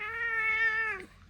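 A cat gives a single short meow, close and clear, with a steady tone that drops off at the end, heard alone in a quiet indoor room.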